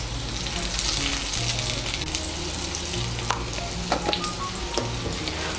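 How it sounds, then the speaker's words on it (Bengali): Boiled potato pieces frying in hot oil with salt and turmeric, a dense continuous sizzle up close with a few stirring clinks and scrapes toward the end, no talk. "এই তেলের মধ্যে আলুগুলো ভেজে নেব"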